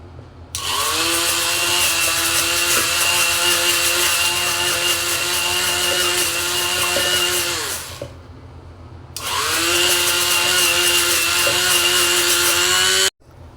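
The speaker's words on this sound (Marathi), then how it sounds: "क्रीम फेटण्यासाठी माझ्याकडे बीटर नाही आहे तर मी हँड ग्राइंडरचा वापर करत आहे" A hand grinder-style electric hand blender whips fresh cream for homemade Alphonso mango ice cream, a loud steady motor whine running in two long bursts with a short pause between.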